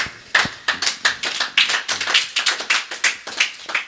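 A church congregation claps in a quick, fairly regular rhythm, close and crisp, a steady run of sharp hand claps with no talking.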